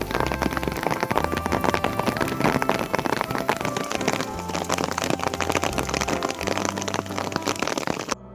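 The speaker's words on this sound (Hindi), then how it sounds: "अचानक से होने लगी है बारिश" Sudden steady rain on the Rudranath trek in the mountains, a dense, continuous patter of drops on surfaces heard up close for the whole stretch, with a rhythmic music-like bass line running underneath.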